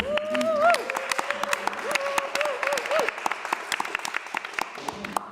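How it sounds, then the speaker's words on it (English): An audience claps with scattered, thinning applause, heard close under a sustained tone or voice early on and fading to sparse individual claps toward the end. "Can you just have a massive round of applause?"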